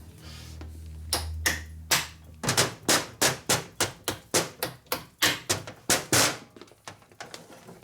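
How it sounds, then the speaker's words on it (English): A plastic hammer strikes parts of a 1965 Harley-Davidson Panhead 74ci FLH engine during a rebuild, giving a quick series of about sixteen sharp, close, evenly paced knocks, with a couple of scattered taps before them and no talking. "We get a plastic hammer, not wood, not rubber, not rawhide, plastic."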